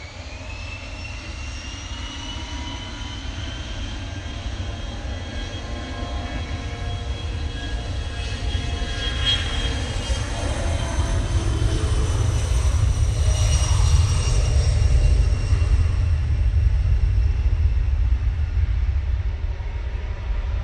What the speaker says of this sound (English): this one will be the penultimate departure off 2-3 left this Sunday